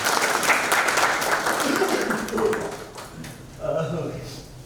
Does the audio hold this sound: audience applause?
yes